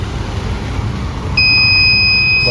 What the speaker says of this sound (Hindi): बजर ऑन हुआ